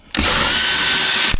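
A power drill whirs loudly for just over a second in one sustained burst, starting and stopping abruptly, close by while stripping down a tour bus.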